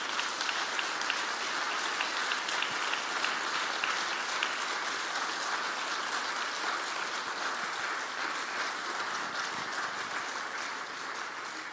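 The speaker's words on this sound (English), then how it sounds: "Can we guys give these guys a round of applause and thank you?" A church congregation gives a sustained round of applause at a Sunday service before a baptism, a dense, steady wash of many hands clapping that stays loud throughout and tapers only slightly near the end.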